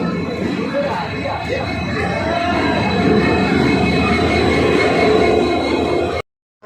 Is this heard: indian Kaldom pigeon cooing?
no